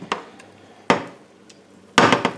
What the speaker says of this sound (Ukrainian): Ріжу цибульку міленьку